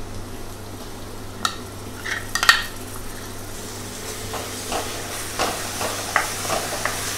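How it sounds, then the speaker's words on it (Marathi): Masala paste frying in hot ghee for palak paneer, a steady soft sizzle with occasional sharp spatters and scraping stirs from a pan, close and moderately quiet. "तुपामध्येच मसाला पण छान तळला जाईल"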